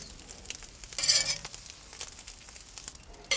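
Cooked eggs scraped off a hot grill and scooped back into a bowl: a soft sizzle under a short, bright scrape near the start, then faint scattered taps and clinks, with no talk.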